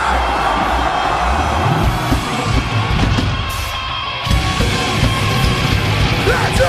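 A concert crowd at a 2005 Big Day Out show in Sydney screams and yells en masse, a dense, loud roar of voices that dips briefly midway before swelling again.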